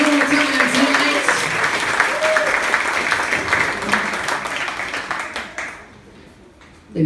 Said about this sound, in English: Give it for applause one more time tonight